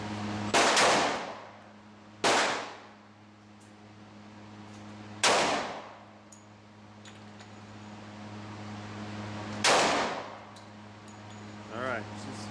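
Large-calibre gunshots at an outdoor shooting range, four loud booming reports spaced a few seconds apart, each with a lingering decay over a steady low hum.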